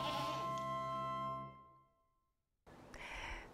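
Goats bleat on a goat farm, one long, loud, wavering bleat followed by a brief pause and then the start of another bleat, heard close by.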